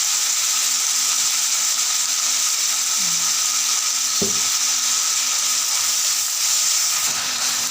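Tomatoes, curry leaves and salt fry in a pan, producing a steady, even hiss of sizzling with one brief knock partway through, close and continuous.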